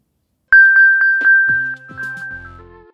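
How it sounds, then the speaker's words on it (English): Apple Find My Play Sound chime from an iPhone, iPad or iPod touch: a rapid series of bright, clear electronic pings on one pitch, followed by a lower melodic tail that fades over about two seconds, loud and isolated. "To help find a nearby device, tap Play Sound. Your device plays a chime like this."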